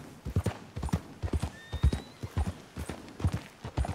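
A horse in Red Dead Redemption 2 gallops, its hooves pounding in a steady, quick rhythm, close and prominent, with a faint high whinny-like tone partway through.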